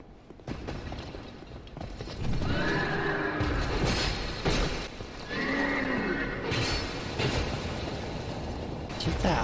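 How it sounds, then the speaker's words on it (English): A horse neighs and snorts breathily in the video game Dark Souls 2, loud and close, with a raised voice talking over it and game sounds clattering throughout. "Get that horse breath away from me."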